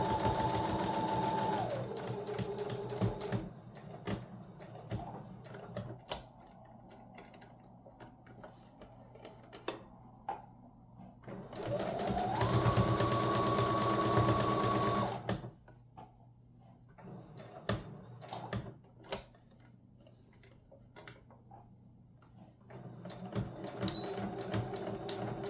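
Double-sided reusable cosmetic pads of microfiber cloth run through a sewing machine in bursts of rapid, rhythmic stitching that speeds up and slows, with short quiet gaps and close handling noise between the runs.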